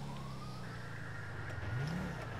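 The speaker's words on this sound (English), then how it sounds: "Speeding minivan, Marina?" A minivan engine in a video game revs and speeds past with a rising then falling whine over steady road noise, brief and fairly distant.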